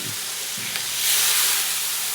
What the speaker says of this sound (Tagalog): kumukulo na yan